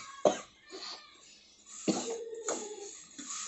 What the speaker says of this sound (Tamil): அதான் எனக்கும் அம்மாவுக்கும் நல்லா இருமல் வருது